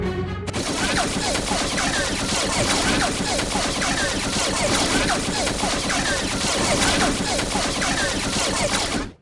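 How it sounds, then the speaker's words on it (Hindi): Many guns firing at once in a dense, unbroken volley that stays loud and harsh for several seconds before cutting off abruptly. "फिर एक साथ ही बाबा पर निशाना लगाते हैं और एक साथ ही फायरिंग शुरू करते हैं।"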